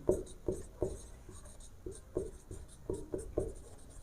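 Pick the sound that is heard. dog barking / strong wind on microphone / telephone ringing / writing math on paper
writing math on paper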